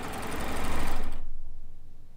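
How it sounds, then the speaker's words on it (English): A Euphoria sewing machine piecing fabric runs in a steady, fast stitching whir that swells and then cuts off about halfway, leaving only a faint fading hum. "I love piecing on the Euphoria"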